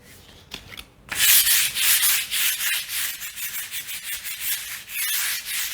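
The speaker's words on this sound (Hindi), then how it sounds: "इसको साइन पेपर से घिसाई करेंगे" Sandpaper rubs across a rough interior wall in strong, rhythmic strokes, the rasping scrape close and loud after a quiet start, repeating steadily without any talk.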